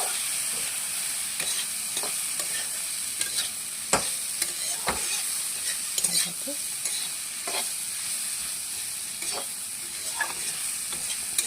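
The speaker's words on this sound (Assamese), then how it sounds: "এনেকৈ জিৰা গুড়া অলপমান দিলোঁ ভালকৈ এনেকৈ মিক্স কৰি লাৰি দিলোঁ" Food being stirred in a frying pan with cumin powder added, a soft continuous sizzle broken by irregular scraping and clinking strokes of the spoon against the pan, close and steady with no talk.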